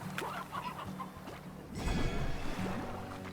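Hens cluck in the game Slime Rancher, a string of short clucks and squawks close by, followed by a busier burst of fowl chatter and rustling in the second half.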